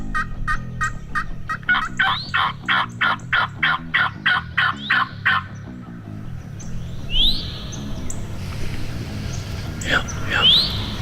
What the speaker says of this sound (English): bird gobbles exactly where we hunted in the morning